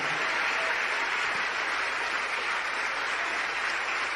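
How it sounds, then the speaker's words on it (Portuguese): Church congregation applauding in praise, a steady, fairly faint wash of many hands clapping together with no break. "Vamos aplaudir mais o Senhor Jesus."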